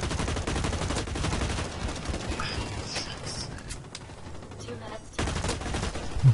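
Gunfire in the shooter Blacklight: Retribution rattles in rapid bursts, loud and close, fading into a quieter stretch before a sharp renewed volley near the end, with someone talking over part of it.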